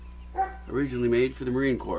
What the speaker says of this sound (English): Pardon my dog barking in the background.